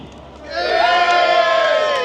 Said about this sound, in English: So, if you think the Vectra's won, cheer for me now.